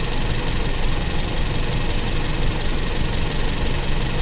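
Toyota Kijang engine idles during carburetor adjustment, a loud, close, continuous rumble with a slightly uneven, knocking vibration and no talk over it.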